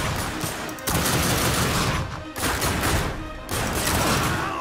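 Rapid bursts of gunfire in the video game The Darkness II, loud and continuous in three sustained volleys with brief dips between them, with no speech.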